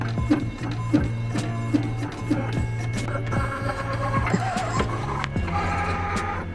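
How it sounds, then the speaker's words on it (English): A printer running a product label, with rhythmic mechanical clicks and feed whirs repeating close by, plus some faint background noise. "let's print it and see how it comes out"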